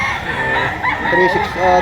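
A rooster crows close by amid a steady livestock auction market din, with faint clucking mixed into the busy background.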